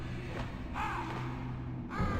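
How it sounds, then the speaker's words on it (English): A crow caws a few times in a Metal Gear video game over a low humming background, the calls fairly clear and close, with no talking. "And those are crows."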